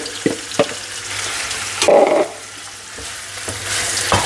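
Vegetables hitting hot oil in a wok for veg noodles set off a burst of sizzling around the middle, with a few clanks of utensils before and after and a steady frying hiss under it all; no talk.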